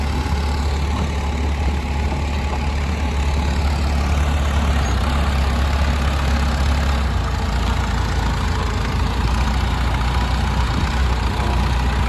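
A vintage Farmall A tractor engine runs steadily under load while pulling at a machinery rally, a low, continuous rumble that stays fairly loud and close throughout.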